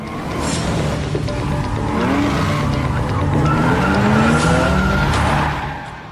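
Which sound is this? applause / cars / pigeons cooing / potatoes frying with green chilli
cars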